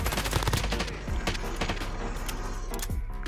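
Rapid automatic gunfire in the video game Warzone, dense overlapping bursts of shots that run almost nonstop, loud and close, with game noise underneath.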